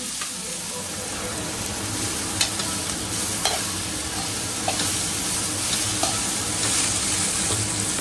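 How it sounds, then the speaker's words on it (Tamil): Mint and coriander leaves sautéing in a pan for a ghee rice and green chicken gravy recipe, giving a steady close sizzle with scattered scraping stirs and light clinks throughout. "புதினா கொத்தமல்லி வந்து நல்லா கொஞ்சம் லைட்டாக வதக்குனதுக்கு அப்புறமேட்டு"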